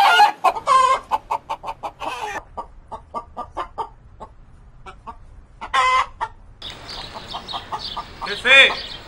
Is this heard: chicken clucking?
yes